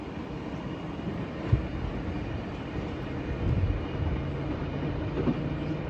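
An Amtrak ballast train heads into a work zone, giving a steady low rumble of rolling cars with a few soft clunks, moderately distant and without voices.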